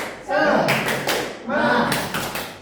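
Rhythmic group clapping of an Indonesian classroom cheer, two loud, close bursts of claps mixed with chanting voices.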